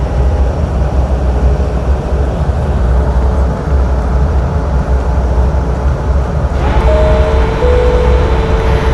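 In an air traffic control game, an Atlas Air airliner lands on runway 16 left, heard as a steady loud engine roar and rushing drone, joined near the end by a brief cabin chime and tone.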